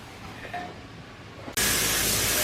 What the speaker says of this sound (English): he's going to be spraying some urethane on everything